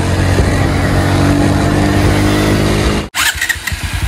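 A newly bought motorcycle's engine runs loud and close at a steady idle-like drone as the clutch is slowly released, then cuts off abruptly near the end, followed by softer rattling and handling noises.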